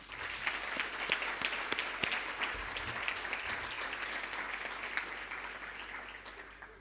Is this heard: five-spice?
no